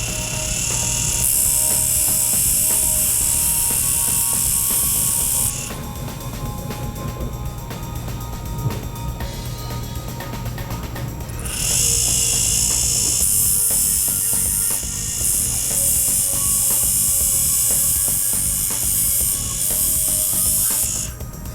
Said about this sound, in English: another option that you can use is the sanding disc to bring down the height of your prongs